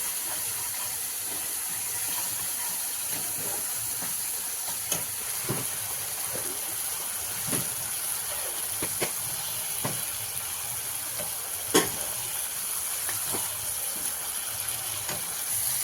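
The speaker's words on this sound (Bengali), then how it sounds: "এবার মশলাটা আমি কষতে থাকবো।" Spice masala for shahi paneer sizzles and fries in oil in a pan, a steady, moderately loud hiss. Occasional scrapes and clicks of stirring break through it, and no one speaks.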